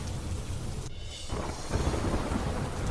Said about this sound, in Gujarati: થરાદમાં ધોધમાર વરસાદથી પાણી ભરાયા